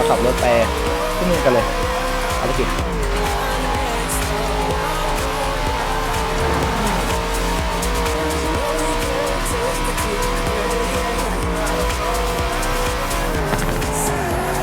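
A car driven hard in the video game Forza Horizon 4, engine revving steadily with squealing tires and skids, loud and constant throughout while someone talks over it.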